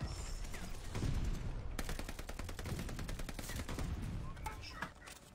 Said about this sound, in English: And then shotgun.